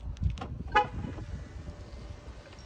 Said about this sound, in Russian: Я ухожу из машины и ставлю ее на сигнализацию.